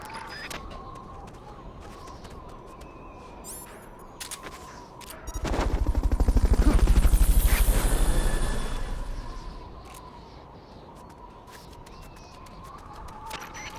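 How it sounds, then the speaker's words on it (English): A helicopter in the video game Metal Gear Solid Peace Walker, a rapid rotor thudding that rises from quiet background, passes loudly overhead for several seconds and then fades away. "Fulton recovery helicopter is complete."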